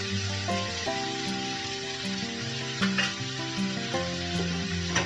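Ginger paste dropped into spices frying in a pan for an Indian aloo dumur dalna, giving a steady crackling sizzle with scattered pops and clinks, close and fairly loud against a humming musical background.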